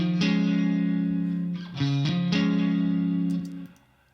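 An electric guitar through a Vox-style amp model plays a few sustained, slightly overdriven chords with a chimey amp tone, each ringing out before the next.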